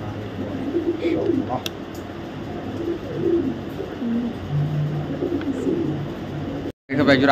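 Pigeons coo in low, repeated rolling calls throughout, close by at a pigeon club where young and female birds and a grizzle racer pair are on sale, with someone talking over them.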